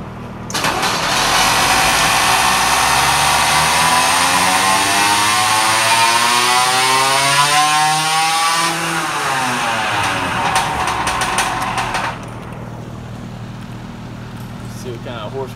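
Small motorized bicycle engine revving hard through a dynamometer pull, its loud drone climbing and then dipping in pitch for about twelve seconds before dropping off to a quieter idle.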